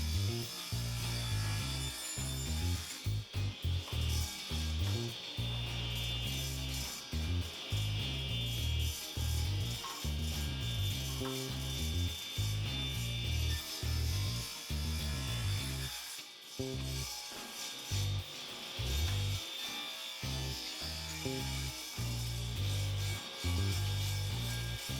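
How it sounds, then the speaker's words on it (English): A power saw rips small wooden boards into narrow strips, about 7/8 inch wide, with a continuous loud buzzing whine broken by repeated short pauses and shifts in tone as each strip is cut. "I'm gonna go ahead and cut these at about 7/8 of an inch wide"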